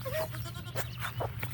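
Goats on a homestead bleat a few times, close and fairly loud, over a steady low hum and outdoor noise.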